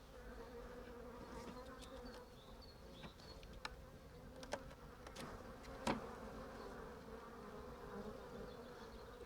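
Honeybees buzzing in an open hive of a colony kept in a single brood box, a continuous close low drone with occasional sharp clicks and knocks of frames and equipment.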